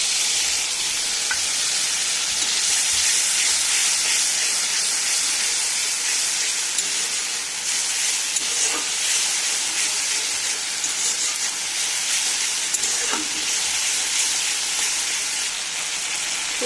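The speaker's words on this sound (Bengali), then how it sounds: "টমেটো ভালো করে ভাজা হয়ে গেছে, তাই এর মধ্যে দিয়ে দেবো, এর মধ্যে আছে অল্প একটু সর্ষে, জিরে, আদা আর 2-3 কোয়া রসুন একসাথে দিয়ে দেবো" Mustard seeds, cumin, ginger and garlic hit a pan of fried tomato and sizzle loudly in hot oil, a constant bright hiss with occasional small pops, close and steady with no talk.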